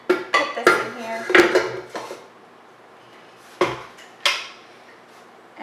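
Oil being stirred into dry muffin batter ingredients in a mixing bowl for egg- and dairy-free apple muffins, with several sharp spoon clinks and scrapes against the bowl in quick bursts, then pauses and two more clatters.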